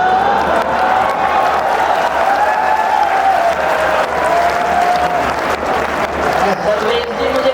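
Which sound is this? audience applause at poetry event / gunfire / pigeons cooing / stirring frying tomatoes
audience applause at poetry event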